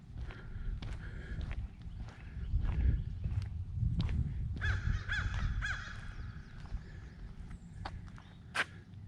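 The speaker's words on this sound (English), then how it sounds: "lots of crows." Crows cawing beside the Chattahoochee River in a Georgia state park: repeated harsh caws, some in quick series, carry over low outdoor rumble and faint footsteps, with a sharp louder call near the end.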